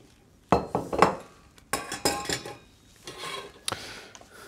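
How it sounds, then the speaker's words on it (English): A hand-cranked food mill pushing cream soup through gives off irregular metallic clanks, rattles and scraping, close by in several short bursts. "now I can crank my food mill to push my food through"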